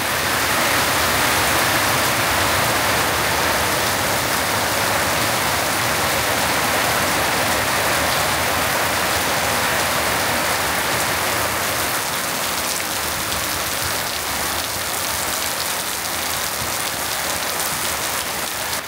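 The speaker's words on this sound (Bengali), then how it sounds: "সেই লেভেলে বৃষ্টি নামছে" Heavy rain pours steadily onto surfaces outdoors on a farm, a loud, dense, unbroken hiss of countless drops that holds at the same roaring level throughout with no voices.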